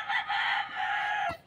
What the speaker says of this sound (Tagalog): so maingay yung aking mga alagang manok.